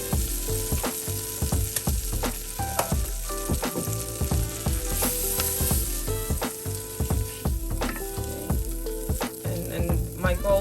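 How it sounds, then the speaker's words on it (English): Vegan butter coats the bottom of a pan and sizzles loudly, crackling with a steady hiss and frequent rhythmic knocks and taps of a utensil against the pan, with no voices. "I'm going to use a little bit of vegan butter just to coat the bottom"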